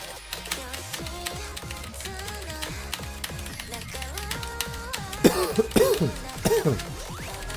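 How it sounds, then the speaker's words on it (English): A person coughs and clears their throat near the microphone, a couple of harsh bursts after a stretch of quieter clicks and background sounds. "I'm so sorry for all the coughing."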